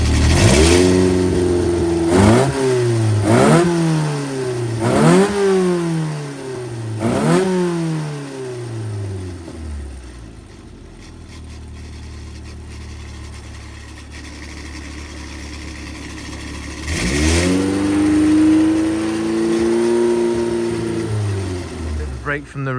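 A carburettored car engine is blipped in a string of sharp revs with a workshop-style pause, then settles to a steady idle before one more long rev rises and falls, loud and close with no talk.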